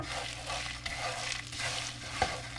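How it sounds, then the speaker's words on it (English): About seven ounces of dry pasta being stirred and toasted in a hot pan, a steady sizzling scrape with occasional light clinks of the utensil against the pan. "I'm gonna toast the pasta"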